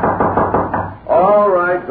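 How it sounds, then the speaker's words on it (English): Loud knocking on a door, about five heavy raps in a steady rhythm, close and dominant, followed at once by a voice speaking. "Suddenly, a loud knocking at his door startled him."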